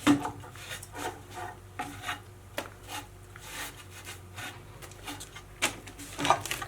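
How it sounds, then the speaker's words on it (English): A damp rag wipes excess glue off pallet wood pieces, producing soft, repeated rubbing and scrubbing strokes up close in an uneven rhythm, with no voices. "Got my damp rag here. You can wipe off all the excess glue on both sides."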